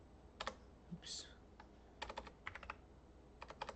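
Bursts of typing on a computer keyboard, quick clusters of key clicks with short pauses between, fairly close and quiet, with a brief vocal sound in the middle.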